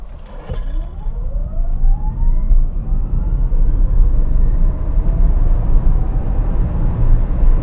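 A 2023 MG ZS EV electric car accelerating from 0 to 100 in normal mode gives a thin motor whine that climbs steadily in pitch over a dense rumble of road and wind noise, with no talking.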